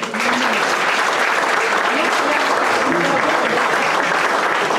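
Sustained audience applause fills a hall at a dinner dance, dense and loud throughout, with a few voices calling out underneath.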